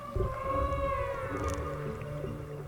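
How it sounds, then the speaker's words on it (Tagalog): Humpback whale song recorded underwater off the Babuyan Islands, Philippines, with at least two whales singing together: long, wavering tonal moans and rising and falling whoops layered over a steady low rumble, continuous and fairly distant. "So merong at least dalawang hampak na kumakanta ng sabay."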